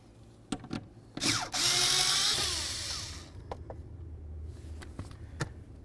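Under the steering column of a 2006–10 Ford Explorer, a power tool whirs in one sustained burst to remove a pair of 7mm hex bolts, with clicks and knocks of handling before and after.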